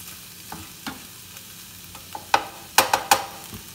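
Shrimp, onion and chile frying in a pan over medium heat, a quiet background sizzle punctuated by sharp spatula scrapes and clacks that grow louder and closer together near the end.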